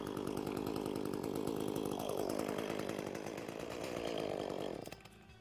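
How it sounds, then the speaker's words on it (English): An Echo gas chainsaw, cold-started, sputters to life and runs loudly, its engine pitch rising as it revs, then cuts off abruptly near the end. "now I'm ready to start the chainsaw"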